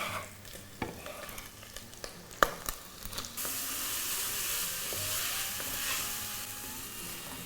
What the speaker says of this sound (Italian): si vanno ad aggiungere le cipolle